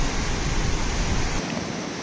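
Water pours loudly and continuously over the waterfall at Maneri Dam as a dense, close rushing roar, easing slightly toward the end.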